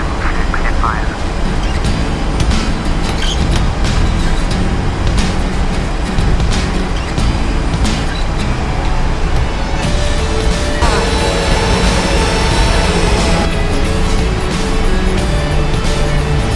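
A PMDG Boeing 737-800 in Fly Dubai livery takes off in the Prepar3D v4.5 flight simulator, its engines giving a loud, steady, broadband roar that holds throughout with no pause.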